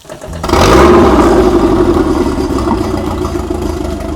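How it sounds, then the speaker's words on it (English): An outboard boat motor on a trailer, being flushed, cranks and catches at once, settling into a loud, steady running drone with a low rumble and mechanical whir. "our good, lovely assistant, David, to fire up our engine."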